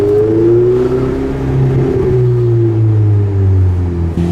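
A Ferrari 488 GTB turbocharged engine revs steadily and loudly, its deep droning harmonics rising and falling slightly with throttle over a continuous, somewhat muffled roar, with no talking.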